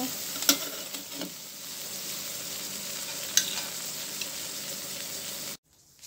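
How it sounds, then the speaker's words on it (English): Ripe plantain fries in a pan with a continuous, even sizzle and a couple of sharp stirring clinks, close and clear, before the sound cuts off abruptly near the end. "I'm making some fried ripe plantain this morning for my breakfast."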